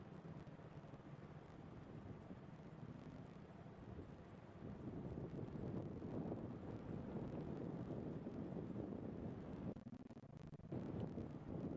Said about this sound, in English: We've got a little bit of a breeze.